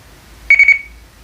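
Kinnota GP-558 UHF handheld radio sounding a short electronic beep pattern as it enters copy mode, three quick high-pitched pips in a row, clear and close against a quiet background.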